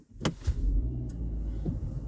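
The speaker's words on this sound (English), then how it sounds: "just gonna turn on the vehicle so we hear the engine." A 2020 Kia Sportage engine starts with a brief cranking whir, then settles into a low, steady idle hum near the listener.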